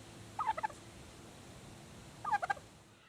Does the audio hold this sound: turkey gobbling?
yes